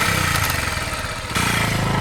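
A vehicle engine turns over and settles into a steady, close idle, its low throbbing hum briefly dipping before resuming at a constant chug, with no voices.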